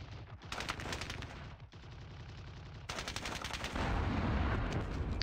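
Gunfire aimed at infantry in the Squad Battles Red Victory war game, rapid rattling bursts of automatic fire in quick runs, fairly close and loud, with heavier rumbling toward the end.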